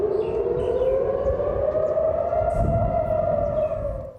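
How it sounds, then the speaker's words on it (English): Air raid siren warning of incoming rockets in central Israel, a steady loud wail holding one pitch and slowly rising, sounding alone and continuously throughout. "Rocket sirens sounded across central Israel this morning for the first time in months."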